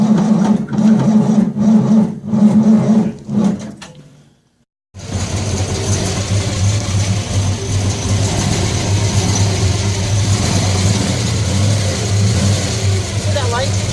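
A Ford Mustang engine with a faulty starter cranking in a few rhythmic pulses, then a brief gap before it fires and settles into a steady loud idle, with voices talking over it.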